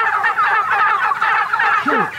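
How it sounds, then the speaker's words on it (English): Heritage breed wild turkeys gobble loudly and close together on a farm, a dense overlapping chorus of rapid, warbling gobbles that continues without pause. "So those are wild turkeys? Heritage breed wild turkeys?"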